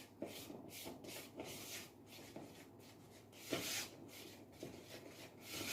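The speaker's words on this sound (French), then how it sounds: "Donc là, je vais plutôt partir à la maryse. Donc une demi-cuillère à soupe de levure chimique. Je vais donc bien mélanger." Cake batter with baking powder stirred with a silicone spatula for small cakes, a soft rhythmic scraping and rubbing against the bowl, close and quiet, steady strokes with no talking.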